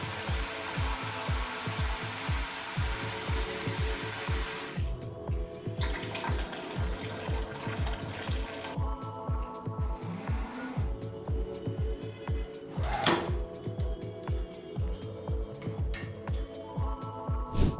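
Water streams steadily from a newly installed Kraus Bolden kitchen faucet, a continuous hiss of flow that is close and fairly loud, with light clatters and shifts in tone as the stream hits the sink.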